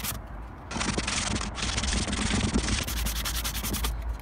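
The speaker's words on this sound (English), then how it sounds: "So now I'm gonna use a little sand block just to smooth this out" A small hand sanding block rubs steadily and closely over a repaired Nissan Qashqai tailgate, taking off paint in a dense, continuous gritty scrape.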